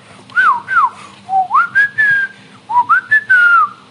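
A hat seller whistles a lively, gliding tune, several bright rising and falling phrases in quick bursts with short pauses between, clear and close with no talk.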